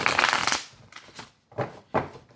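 Tarot cards are being shuffled in quick riffling bursts: one long dense shuffle, then several shorter flicks and taps, close and clear with no voice.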